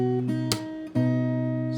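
Fingerstyle acoustic guitar playing the melody of a Hindi song, with sustained plucked notes and a few clear attacks in a short, close, solo phrase.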